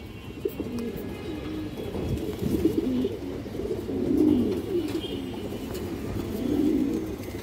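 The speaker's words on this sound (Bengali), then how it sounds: "এটা বড় মাথার একটা কবুতর দর্শক" A big-headed fancy pigeon, a lively male among the birds, coos in low repeated rolling phrases, fairly close, swelling into fuller bursts midway and again near the end.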